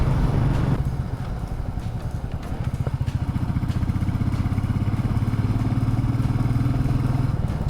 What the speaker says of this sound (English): I just saw a classic Reborn and the bike looks really good.